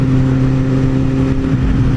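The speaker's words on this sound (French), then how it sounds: "Oh la voiture." An old vintage car drives past close by, its mid-pitched engine droning loud and steady with a slight rise and fall in revs, no voices over it.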